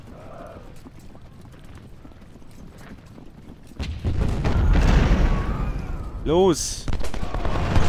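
Artillery firing in the Civil War strategy game Ultimate General: Civil War erupts as a loud, sustained roar of cannon fire and battle noise after a quieter stretch, with a short voice calling out just before it.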